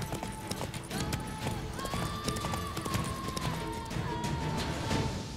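Horse hooves galloping in The Witcher 3 during a race, a rapid continuous clip-clop patter with fast drumming, under ambient game sound.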